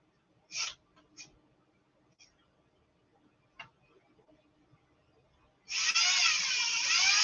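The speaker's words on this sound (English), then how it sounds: "I'm just drilling larger holes through the outside of the chassis" A drill bores larger holes through the outside of a Bruder toy crane truck's chassis, a steady loud whirring whine that kicks in near the end after a few quiet taps and clicks.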